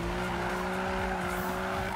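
A car drifts in the PS4 game Need for Speed, its tires squealing in one continuous, loud, sustained skid over a rumbling engine.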